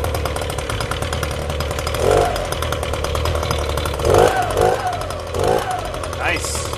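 An ECHO PB-250 leaf blower runs just after its carburetor was replaced, with a continuous buzzing two-stroke engine drone that swells briefly in a few throttle surges, and a voice is heard over it.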